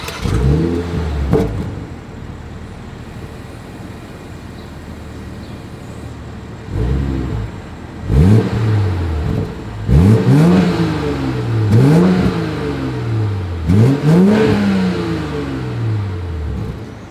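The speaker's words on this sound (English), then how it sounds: "As always, here is that exhaust clip." A 2022 BMW 740i's exhaust as the engine is revved repeatedly, about six sharp throttle blips rising and falling in pitch after a quieter idle stretch, close and loud with no talking.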